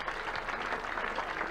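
Congregation at a healing crusade in Imo State clapping steadily, a dense, even wash of applause with no pauses, heard from within the crowd at moderate distance.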